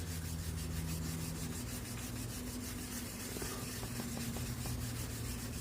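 Steady abrasive rubbing and scraping on the passenger-side cylinder head's gasket surface, a dense continuous rasp with a low hum beneath and a few faint ticks, no talking.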